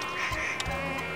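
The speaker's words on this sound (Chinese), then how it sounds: "蚊子还是一样多啊。" Mosquitoes buzz in a close, steady high whine that fills the moment, with a few soft low thumps underneath and no talking.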